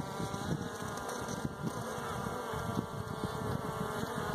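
Honey bees buzzing around an open hive frame, a steady close insect drone with scattered crackling and shifting hums, moderately quiet and continuous with no speech.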